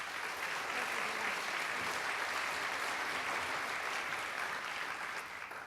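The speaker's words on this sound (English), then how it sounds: "Let's give Dr. Sopcich a round of applause" An audience at a college theater forum applauds a speaker with dense, sustained clapping heard from a distance, steady throughout and fading slightly at the end.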